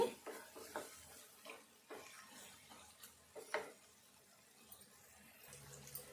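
Quiet scraping strokes of a spoon stirring egg curry in a pan, repeated at an uneven pace over a soft sizzle, close by and faint.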